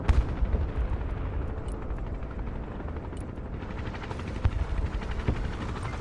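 A helicopter in the modern-combat real-time strategy game Broken Arrow, its dense rotor drone and engine rumble steady throughout, mixed with distant gunfire and explosion-like thumps from the battle, loud and without talk.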